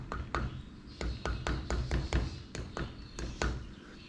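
Light metallic taps on the top of an engine valve spring during valve work on a GM L67 3800 engine, about a dozen sharp, close knocks in an uneven rhythm over a steady low background hum.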